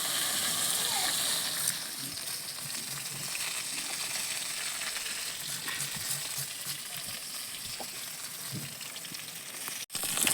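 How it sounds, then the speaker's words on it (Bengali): Steady, dense crackling sizzle of fish frying in hot oil runs throughout, with occasional faint clinks and stirring noises. "এদিকে তো মাছটা ভাজা হচ্ছে"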